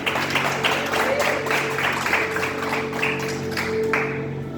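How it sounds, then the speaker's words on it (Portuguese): A church congregation gives a joyful round of applause for Jesus, rhythmic clapping over a sustained tone of music or organ, loud and close, fading at the end. "Poder se assentar com salva de palmas bem alegre para Jesus."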